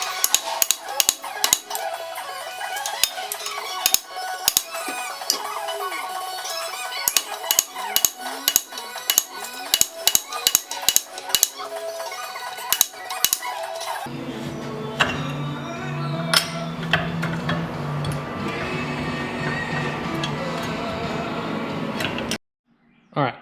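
A hammer drives a flat-head screwdriver against the notches of a strut insert on a 1983 Toyota Corolla, giving sharp, irregular metallic knocks for about fourteen seconds before a denser, steadier clatter takes over.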